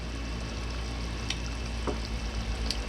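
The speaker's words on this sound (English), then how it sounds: "we're gonna let that simmer for a minute" Spicy dipping sauce simmers in a pan with a continuous, even sizzling hiss and faint scattered pops throughout, with no voices.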